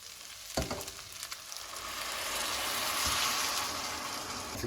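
Cooked rice being stirred with coconut milk in a hot pan for Jamaican kidney bean and coconut rice, giving a steady close sizzle with scraping stir strokes and no talk.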